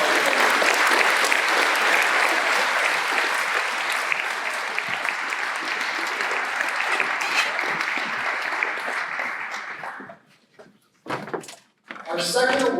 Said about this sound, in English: Please give them a round of applause for all of their hard work.